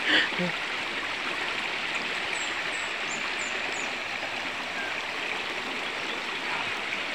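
Steady rushing roar of a river waterfall flowing, a broad continuous wash of water held at an even level throughout, with a brief louder splash at the start and faint high chirps above.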